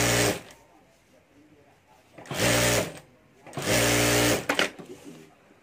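A sewing machine stitches handbag lining to a zip in three whirring bursts, the last and longest ending in a few stop-start stitches. Each burst is close and loud, with quieter gaps between where a voice may faintly speak.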